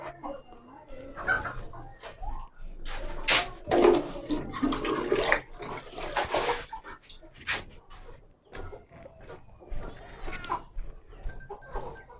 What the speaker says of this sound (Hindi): अभी इनको इसका पानी जो है वो भी डाल देते हैं